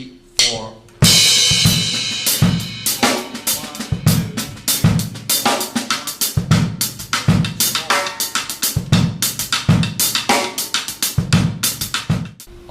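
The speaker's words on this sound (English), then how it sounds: "I oftentimes like to use the rim of the snare because it gives a really nice, has a nice wood type of a sound." Drum kit groove with the pattern clicked out on the snare drum rim, giving a dry, woody knock, over steady bass drum thumps and cymbal wash, close and busy throughout.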